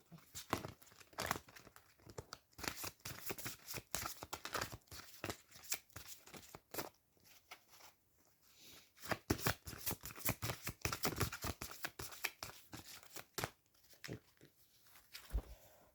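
A deck of tarot or oracle cards is shuffled and cut during a spiritual guidance reading, with dense, rapid riffles and card slaps coming in bursts across the whole stretch, fairly close and with no talking over it.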